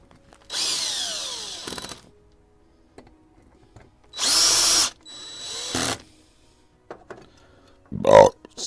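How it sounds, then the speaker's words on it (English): Power drill driving two screws, two loud whirring bursts of about a second each separated by a pause, followed by a short sharp burst and light handling noises. "So I'm going to run 2 screws down."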